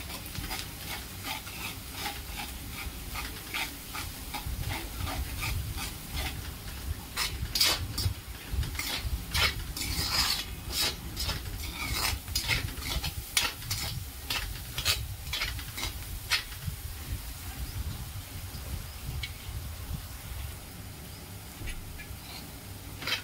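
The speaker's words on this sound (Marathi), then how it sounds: "आता त्यात हे वाटण घालून घेऊ आणि ते पण छान परतून घेऊ।" Ground masala paste for a street-style paneer sabzi being stirred and sautéed in a pan, a long run of rapid, rhythmic spoon scrapes and clacks over a low steady sizzle, close up with no talking.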